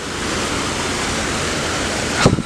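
Water pouring down an artificial waterfall built on a green hilltop in Qatar, a steady dense roar of falling water heard close, ending with a brief louder burst.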